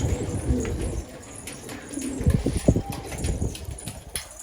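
Pigeons cooing in low, throaty bursts, with occasional wing flaps and scuffling close by, no one speaking.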